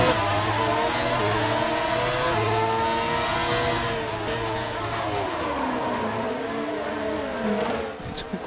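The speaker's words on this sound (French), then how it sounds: "Gros freinage à l'épingle." A Formula 1 car in F1 2019 brakes hard into a hairpin, its loud, close engine whine stepping down in pitch as it slows.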